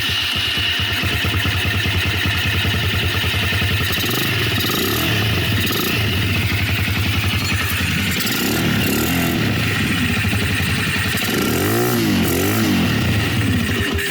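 A faulty motorcycle engine runs steadily and loudly after its carburetor has been cleaned and the air box hole covered, a continuous close rumbling drone with no pauses.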